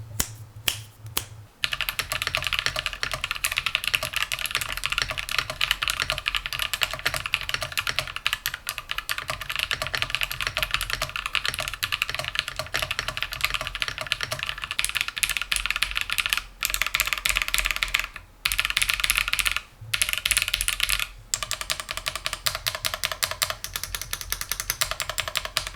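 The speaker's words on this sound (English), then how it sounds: "let's do a little typing test" Rapid typing on an aluminum-bodied mechanical keyboard, a dense, steady run of crisp clacking keystrokes close up, with a few brief pauses and no talking.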